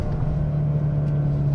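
A 2021 Mercedes-AMG A35 accelerating in manual mode, a steady close engine drone with strong low-frequency rumble and a constant tone, no talking.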